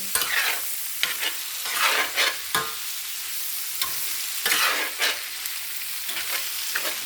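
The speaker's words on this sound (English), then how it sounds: "Stir that in there." A big iron pan of breakfast fries in Manteca lard and is stirred with repeated loud scraping strokes over a continuous crackling sizzle, close up, with short pauses between bursts of stirring.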